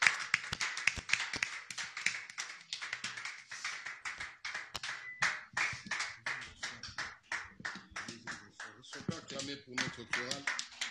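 A church congregation claps in praise at a service, a steady rhythmic series of sharp hand claps with a voice speaking over them.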